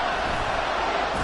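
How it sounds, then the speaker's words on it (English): A football stadium crowd at a Titans versus Saints game roars in a dense, loud, continuous wash of cheering and noise, with no breaks across the short moment. "This crowd turning up the decibel level"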